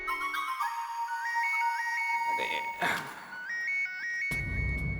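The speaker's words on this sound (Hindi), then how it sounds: "दया बेन का फोन है। बजने दे, मत उठा।" A phone ringtone plays a repeating melodic phrase, pauses, then starts again, loud and close, with a short burst of other noise near the end.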